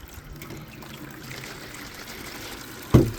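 Tap water runs steadily into a container for cleaning a Fluval 407 canister aquarium filter, a soft continuous trickle ending with a brief louder splash or clunk near the end.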